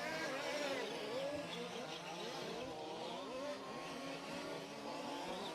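Large scale off-road RC cars racing on a track at a British championship final, with whining, revving motors rising and falling in quick overlapping sweeps, moderately close and continuous.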